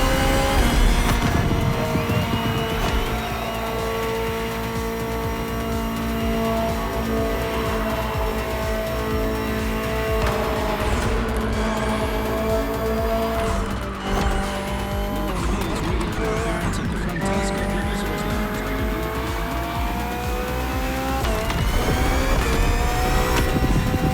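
A BMW M Hybrid V8 endurance race car from 2023 drones steadily in The Crew Motorfest, its engine holding a loud sustained note with shifting pitch and brief tire squeals midway, without any talk.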